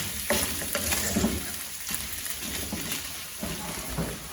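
Carrots sizzle steadily in a hot pan while being stirred, with continuous frying hiss and intermittent scraping of the utensil through the vegetables.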